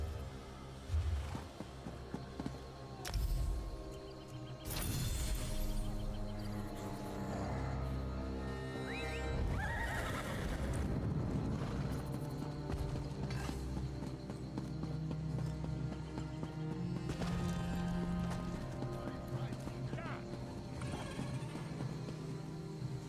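Horse hooves and neighing in the fantasy game Elder Scrolls Online, set in Southern Elsweyr, mixed into a dense, steady layer of game ambience and music with no speech over it.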